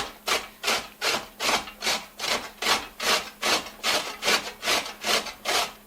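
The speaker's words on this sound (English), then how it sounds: "I will grate the carrots" Carrots being grated by hand for cortido, a Latin American sauerkraut, in steady back-and-forth strokes, about fourteen rasping scrapes close up and fairly loud, with no voices.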